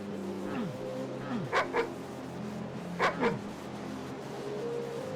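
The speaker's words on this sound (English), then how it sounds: "Hello, doggy." A dog in the MyHouse.wad video game barks twice, each a quick double bark, over a steady low hum of game ambience.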